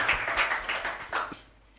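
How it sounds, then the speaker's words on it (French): Brief burst of clapping from a small group, dense and uneven, tapering off after about a second and a half. "Applaudissez pour vous-même."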